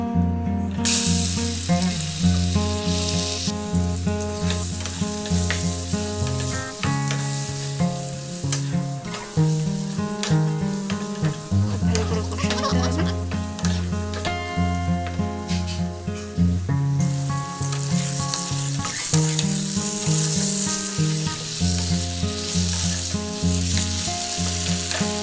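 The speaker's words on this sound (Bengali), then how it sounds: "এরপর আমি মাংস কষে নেব।" Meat browning in a little oil in a pan for homemade chicken biryani gives a steady, close sizzle with stirring, heard under continuous background music with no talk.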